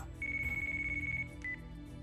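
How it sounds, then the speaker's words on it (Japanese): A phone rings in the video game Yakuza Kiwami, with a long electronic tone and then a brief second chirp over low background game ambience. "電話鳴ってます"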